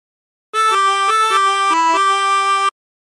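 Chromatic harmonica playing a phrase of The Battle Hymn of the Republic: a bright reedy melody of about seven blown notes in steady rhythm, close and clear, alone with silence before and after.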